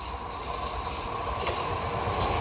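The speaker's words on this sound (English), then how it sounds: "behind me will be a Thameslink service going from Coulsdon to Peterborough" Thameslink train running through South Croydon station on the Brighton Main Line, a continuous rumbling roll of wheels on rails with a sustained hum and faint squeals, fairly close and steady, no talk.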